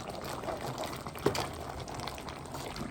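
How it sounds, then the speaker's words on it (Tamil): Jaffna-style crab curry cooking in a pot over a big flame, giving a soft continuous bubbling hiss with a single brief clink partway through. "நல்ல பெரிய நெருப்புலையே கொதிக்கட்டும்."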